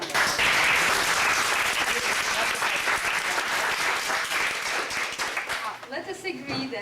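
A lecture audience gives sustained, loud applause that fills most of the stretch before thinning out, with a speaker's voice coming in near the end.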